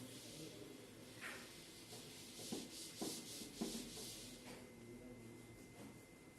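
Chalk writing being rubbed off a classroom blackboard during a physics lesson, a few soft scrubbing swipes with brief dull knocks near the middle, fairly quiet under faint room noise.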